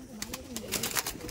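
Domestic pigeons of a Madrasi girebaz breed cooing softly in a loft, a low wavering coo running through the clip with some brief sharp rustles or wing noises above it.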